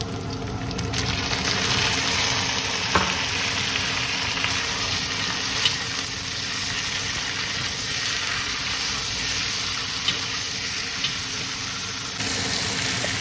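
Eggplant fries with garlic in oil in a pan, giving a continuous dense sizzle and bubbling hiss with a few faint knocks, close and steady for the whole stretch, with no voices.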